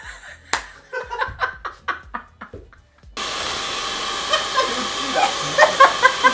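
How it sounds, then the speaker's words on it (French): A bench is whipped in a rapid series of sharp slaps and smacks, roughly nine distinct cracks, followed by a steady whooshing noise with a few fainter hits and some laughter. "J'étais en train de fouetter le banc"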